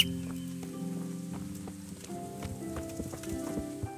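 A horse's hooves clip-clop in a steady rhythmic patter in the medieval video game Kingdom Come: Deliverance, heard over a sustained droning musical background.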